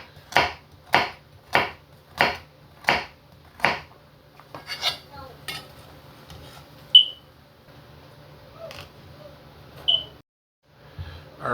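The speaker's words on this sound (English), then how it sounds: "As you can see, guys, I'm chopping my carrot" Six sharp, evenly spaced knife chops on a cutting board as carrots are sliced for Jamaican corn soup, close and crisp, followed by scattered lighter kitchen clatter, a couple of brief high pings and a soft knock near the end.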